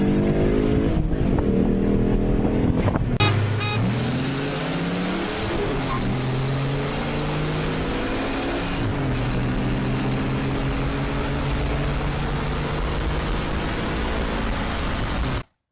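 A Ford Contour SVT's V6 with a 2.25-inch stainless dual exhaust and polished tips, revving hard through rising gear pulls, loud and close, a continuous climbing engine note that cuts off abruptly at the end.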